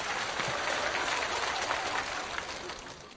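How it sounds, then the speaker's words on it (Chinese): Audience applause at a Chinese stand-up comedy show, a broad wash of clapping that holds steady for about three seconds and then starts to fade. "不用鼓掌，我知道有一点点尴尬"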